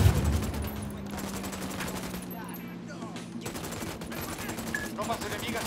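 Gunfire in the tactical shooter Ghost Recon Wildlands: steady rattling shots over a continuous low game drone, with a voice speaking partway through.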